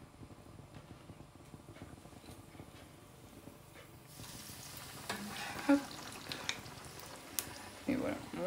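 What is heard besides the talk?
ovos verdes frying in hot oil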